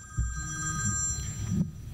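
A mobile phone rings at a gathering, its bright electronic ringtone repeating steadily over a low rumble of room noise and shuffling.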